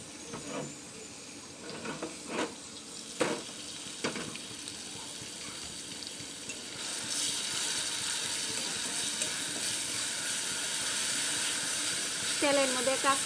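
Green chili, onion and garlic paste sizzles in hot oil, a steady hiss that swells louder after the first few seconds, with a few sharp knocks early on and no talk.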